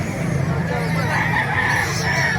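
Roosters crow and hens cluck amid the bustle of a chicken market in Calumpit, Bulacan, several birds overlapping at close range with crowd murmur and voices underneath.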